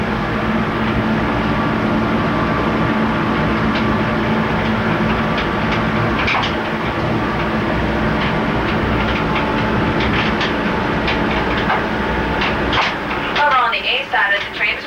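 A Busch Gardens monorail train in Tampa, Florida runs with a steady loud rumble and rhythmic clickety-clack of wheels, continuous throughout with a brief shift near the end.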